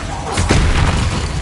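The Repulso spell being cast in Hogwarts Legacy, a single loud booming blast that swells and then rumbles away, with a voice speaking over it.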